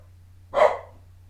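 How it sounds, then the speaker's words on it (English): A single dog bark, short and fairly close, standing alone over a steady low hum with no talking. "It's a dog barking."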